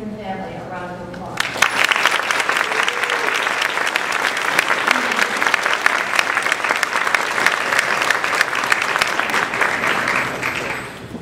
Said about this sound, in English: So students, join me in giving your friends and family a round of applause.